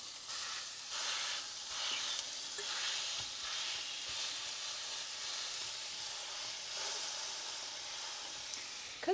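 A Caesar chicken smash taco sizzles steadily in an iron skillet just after being flipped, a continuous close frying hiss with small crackling pulses and no talking.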